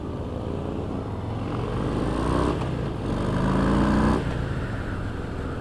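A 2018 Harley-Davidson Breakout 114 motorcycle on a test ride gives a steady, close engine drone that swells twice as the throttle opens, then settles back to a cruising rumble.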